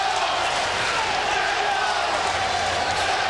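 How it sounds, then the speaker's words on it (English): Ringside boxing crowd at the Lennox Lewis versus Zeljko Mavrovic fight, a steady, dense arena roar with a rhythmic chanting swell running through it, constant and loud throughout. "the crowd at ringside chanting"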